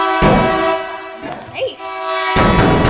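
A loud, sustained train horn sounds from an approaching train in the video game Teardown, blaring in two long blasts with a short break between them.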